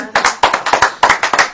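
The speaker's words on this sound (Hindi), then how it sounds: "ताली बजाएंगी।" A small church audience claps at a Hindi prayer gathering, producing a brief burst of irregular, fairly loud hand claps from several people in close succession.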